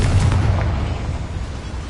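A deep, rumbling blast from the Confringo fire spell in Hogwarts Legacy, heavy and sustained, with a low roar that decays slowly and no voices over it.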